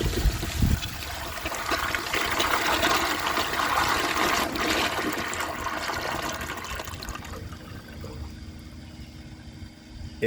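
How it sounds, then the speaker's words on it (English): A 1976 Crane Whirlton 5-gallon toilet flushes a washcloth and grocery bag together, a loud sustained rush of water that gurgles and gradually tapers toward a quieter trickle, close up with no voices. "that seems like a good flush for a 5-gallon toilet."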